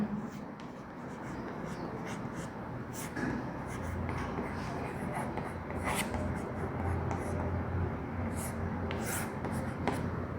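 Pen scratching and rubbing on paper while class notes and a heading on derived quantities are written for a physics lesson, a soft, close, continuous scratching with intermittent sharper strokes.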